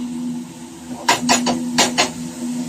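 Metal spatula or spoon scraping and clinking against a pan while ponnanganni greens are stirred, about five quick knocks in two short bursts, close and fairly loud over a steady background hum.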